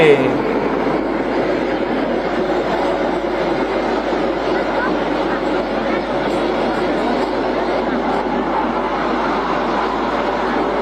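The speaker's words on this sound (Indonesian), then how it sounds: "Tuh, lokomotif BB." A train hauled by a BB-class locomotive rumbles past steadily and loudly for the whole stretch, a continuous roar of wheels on rails with faint voices underneath.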